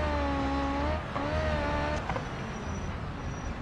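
A rally car's engine note in the racing game BeamNG.drive on a narrow Rally Italia stage, revving with uneven, hesitant throttle, rising and dropping in pitch, loud and continuous throughout.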